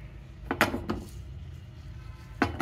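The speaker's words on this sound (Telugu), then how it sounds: "స్టవ్ పైన బాండి పెట్టేసుకొని ఇట్లా తిరగమాత దినుసులు వేసుకొని" A kadai pan on a stove gives a few distinct metallic clinks and knocks while tempering spices go in for beerakaya pachadi, with a quiet pause between the spaced hits.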